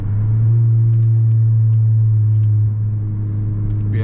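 A Honda Civic Si's engine drones after a downshift from third gear, a steady, loud, low rumble heard from inside the car that eases slightly near the end.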